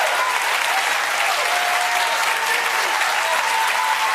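Studio audience on a television talk panel claps continuously, a thick, uniform patter of many hands at steady volume with no voices on top.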